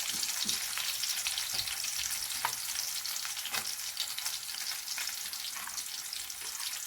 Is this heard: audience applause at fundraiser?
no